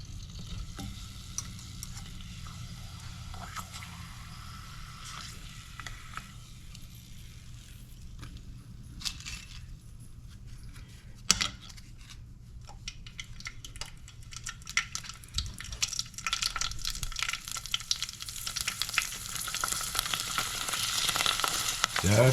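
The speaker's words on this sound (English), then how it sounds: "you just remove them immediately from the oil" Prawn crackers frying in hot oil make a continuous crackling sizzle with scattered sharp pops. The sizzle swells louder and brighter toward the end.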